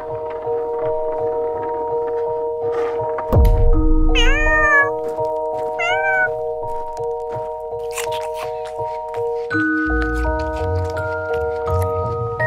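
Cats meow several times, with clear rising-and-falling cries in the middle, set against sustained musical tones and occasional soft taps, fairly close.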